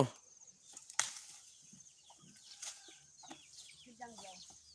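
Chickens cluck and scratch around a village home among elephants in Surin, giving short scattered calls and rustling flutters close by, with quiet background sounds between them.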